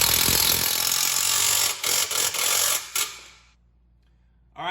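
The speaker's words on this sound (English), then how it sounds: "take that E18 socket to tighten it down" A power tool with an E18 socket spins and tightens a bump stop bolt on a Fiat 500 Abarth, a loud whirring burst broken by short stutters before cutting off into near silence.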